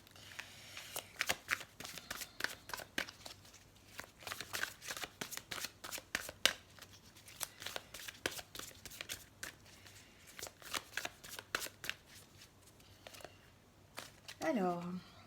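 Tarot cards are shuffled and riffled in a long run of quick papery flicks and snaps, with a soft voice speaking now and then.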